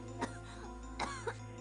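A video game character coughs in thick smoke: three short, hoarse coughs spaced over under two seconds, close and clear above a low steady background hum.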